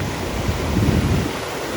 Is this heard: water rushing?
yes